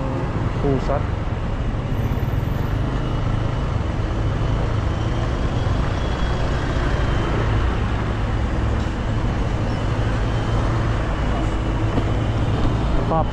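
Heavy rush-hour road traffic crawls past road works in Binogsacan, Guinobatan, Philippines, a constant loud rumble of engines with brief higher whines, while someone talks over it.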